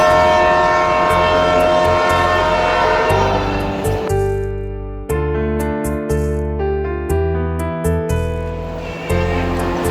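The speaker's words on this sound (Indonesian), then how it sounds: "Ada kereta api guys." A train passes close by, its horn sounding in long sustained blasts over the rumble and clatter of the cars.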